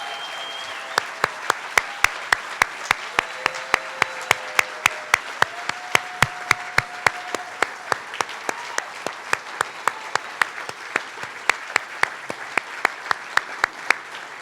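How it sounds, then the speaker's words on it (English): An audience at a film festival's opening night claps in sustained, dense applause with sharp individual claps standing out. It holds steady for about fourteen seconds, with faint voices mixed in. "And if you would give Jay a huge round of applause, I would appreciate it"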